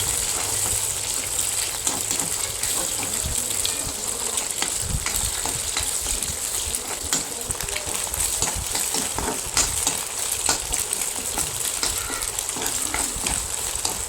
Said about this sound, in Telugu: ఎగ్స్ అన్ని మంచిగా ఉడికే వరకు కలపాలన్నమాట.